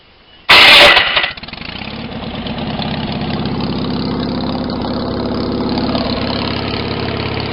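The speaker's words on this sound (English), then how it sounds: "let's start this thing up" A loud burst of grinding and clatter from a misaligned starter, then an engine catches and settles into a steady, rough idle that runs on alone.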